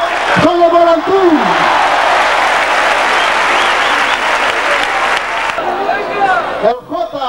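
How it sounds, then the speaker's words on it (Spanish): Strong, sustained applause from a crowd at a Spanish recortes bull-leaping event in Vinaroz, following a leaping jump, loud and continuous with a few shouts rising over it near the end. "Salto de baja del Chipu. Fuerte aplauso."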